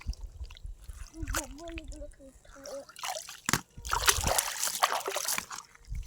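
Water trickling and splashing as fish is washed by hand for a Bengali fish dish, close and intermittent, with someone talking over it.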